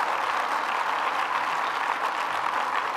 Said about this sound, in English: Let's give another round of applause to Senator Cooney.